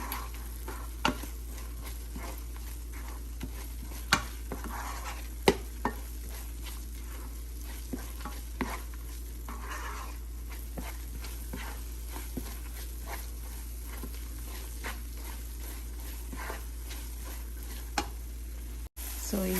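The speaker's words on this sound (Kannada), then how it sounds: "ತಿರುಗಿಸ್ಕೊಳ್ಳೋಣ." Beetroot burfi mixture stirred in ghee in a pan, a steady soft sizzle with repeated scraping taps of the spoon against the pan at an irregular rhythm.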